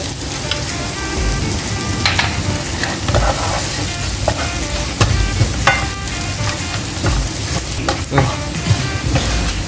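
Garlic with Chinese five-spice herbs and cinnamon is stir-fried on low heat, giving a continuous close sizzle broken by repeated scraping and clacking of a spatula against the pan.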